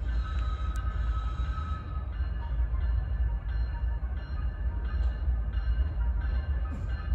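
BNSF locomotive and CSX grain train rumbling steadily through a rail yard at Brunswick at night, a low continuous roll with faint squeals and clanks, heard from nearby without any talk.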